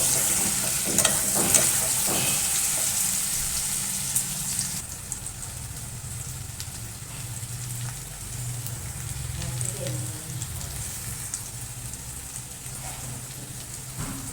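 Spices fry in a hot pan, a continuous sizzle with irregular stirring scrapes that is louder at first and then settles into a softer, even crackle, heard up close.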